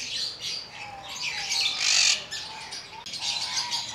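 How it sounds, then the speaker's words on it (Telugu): Caged lovebirds squawk and chirp in a busy, overlapping chatter of sharp calls, close and fairly loud with no talking. "ఇదిగోండి లవ్ బర్డ్స్."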